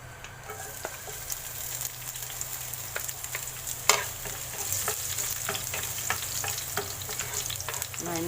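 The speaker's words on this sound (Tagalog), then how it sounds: "tayo magigisa ng bawang, sibuyas, kamatis" Garlic, onion and tomato sizzle in a pan for coconut-milk santol, a continuous frying hiss broken by frequent sharp scraping clicks of stirring, close up with no talking.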